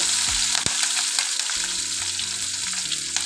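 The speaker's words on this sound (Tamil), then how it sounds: "சீரகம், காஞ்ச மிளகாய் வந்து ஒரு 4-5, பச்சை மிளகாய் ஒரு 5, இடித்த பூண்டு" Cumin, dried red chilies, green chilies and crushed garlic sizzle steadily in hot oil as a Tamil dal palak tempering is stirred, with a sharp clatter early on and scraping stir noises over the constant crackle.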